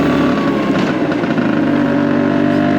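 Steady buzzing two-stroke engine drone of a Vespa PX125 motor scooter riding along, loud and close, holding a constant pitch throughout.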